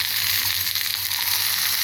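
Steady, close sizzling of potato pieces frying in lard in a pan, a continuous crackling hiss with no talking.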